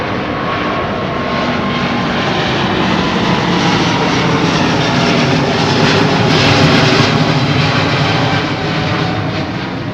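Departing airliner at Heathrow Airport powered by Rolls-Royce Trent XWB jet engines, producing a loud, steady, broadband roar that holds for about ten seconds with a slight swell near the end.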